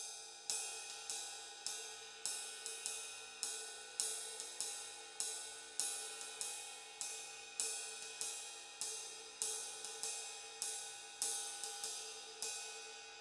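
A three-quarter time groove tapped steadily on a ride cymbal, each bright ping decaying before the next, quiet and evenly spaced in a lilting three-beat pattern.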